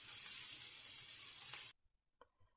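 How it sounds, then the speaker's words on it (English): A burger patty sizzles and crackles steadily in a hot pan for a moment, then cuts off, leaving a few faint clinks and taps. "Listen to it sizzle."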